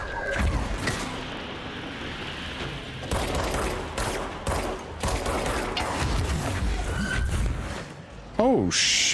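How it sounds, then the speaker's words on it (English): Sniper and automatic gunfire crackle in dense bursts during a tense firefight in the video game Control, loud and near, nearly continuous across the scene with brief pauses and a sharp shift near the end. "snipers are here"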